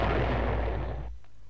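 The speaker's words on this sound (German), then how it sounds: "Mach die Bombe scharf und nichts wie weg von hier." A bomb blows up a pickup truck in the PS1 video game GTA 2: one loud, deep explosion rumbles on for about a second, then cuts off to quiet.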